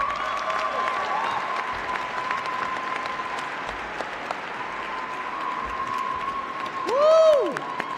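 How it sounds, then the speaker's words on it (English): A commencement audience applauds the Dean with a steady, moderately loud wash of clapping, while a high sustained tone and a brief whooping swell rise near the end. "Please give our Dean a nice round of applause this evening."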